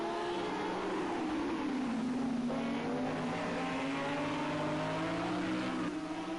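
Race cars sweep through turn 12 at Circuit of the Americas during a TNGTC sprint race, a loud, continuous engine drone holding steady with pitch sliding slightly as the pack passes, close and dominant without talk.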